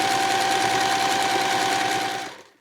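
Sewing machine stitching the side seams of a cotton two-way shoulder bag, a close, continuous rapid mechanical whir that runs steadily and then stops abruptly just before the end.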